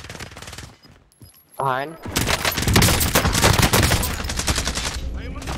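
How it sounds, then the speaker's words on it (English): Rapid automatic gunfire fills a Call of Duty: Warzone match as a player takes fire from two sides, loud continuous bursts following a short quieter stretch, with a brief spoken word near the start. "we're getting shot by both sides"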